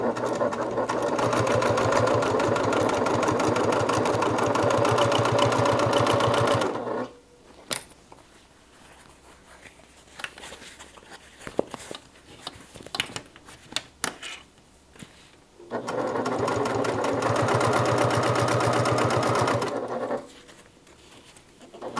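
A sewing machine stitches fabric with a 1/2 inch seam allowance, running in two long steady bursts of rapid, even whirring separated by quiet handling and clicks.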